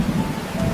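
Heavy rain and rumbling thunder outside a train during a flood in a cartoon, a loud continuous wash of rain with a low rolling rumble throughout.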